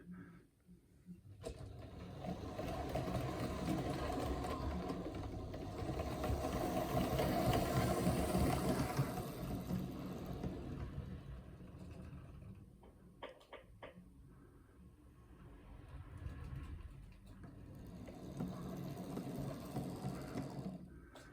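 A small electric motor in a Hornby King class model locomotive whirs steadily, rising and falling in loudness with faint mechanical clicks, close by.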